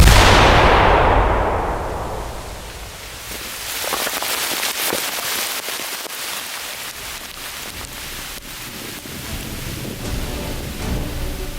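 A large outdoor blast of ammonium nitrate fertilizer in a spruce forest: a loud opening boom that rolls off into long rumbling echoes, followed by scattered crackling and debris patter for several seconds.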